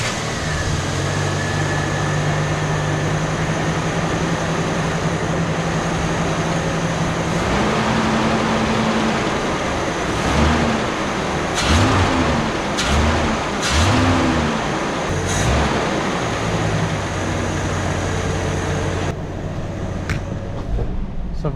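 Classic Ford XE Falcon engine, just brought back to the road after years parked, cranks and fires, then idles steadily with a few throttle blips rising and falling, loud and close with no talk.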